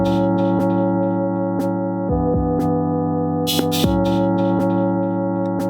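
Clean drum pattern from an Elektron Model:Cycles FM groovebox: steady, evenly spaced hits over sustained tonal layers with a metallic crash-like wash, playing alone at a strong level.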